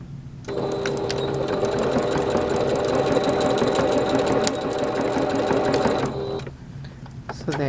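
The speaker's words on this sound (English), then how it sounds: "you're going to sew until you get to the end" A sewing machine stitches a dress hem in a long continuous run of rapid mechanical chatter, close and steady for about six seconds before stopping, with a voice talking over it.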